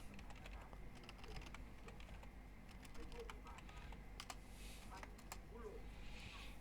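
Typing on a computer keyboard for a Google search, a steady run of close, light key clicks beneath a continuous low room hum.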